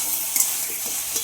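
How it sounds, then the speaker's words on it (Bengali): Taro stalks frying in a pan with garlic and black cumin seeds, giving a steady close sizzle with a few light stirring scrapes and no voices. "রসুন ফোড়ন দিয়ে, কালো জিরে ফোড়ন দিয়ে একটু ভাজা ভাজা করছি"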